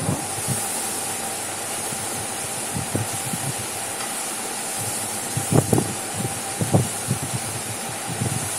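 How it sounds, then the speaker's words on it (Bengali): Water hits hot fried spice paste in a pan, raising a constant close steamy hiss with soft bubbling thumps and a few louder splutters. "এবার একটু জল দিয়ে দেবো।"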